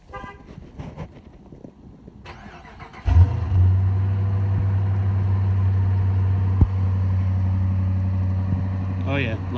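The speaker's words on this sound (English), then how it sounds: "Thought I'd do a cold start for you guys." A 2014 Dodge Charger R/T Plus AWD with a 5.7 Hemi V8 cold-starts with a sharp crank and catch, then settles into a loud, steady, rumbling idle that carries on to the end.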